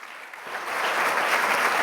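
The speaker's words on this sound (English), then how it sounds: "Round of applause." Conference audience applause at an ad-tech event in London swells into a dense, steady wash of clapping that fills the hall, with no voices on top.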